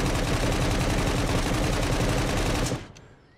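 Rifle gunfire in the survival video game SCUM comes as a dense, rapid burst of loud, close shots. It holds for nearly three seconds, then cuts off and leaves a fading tail.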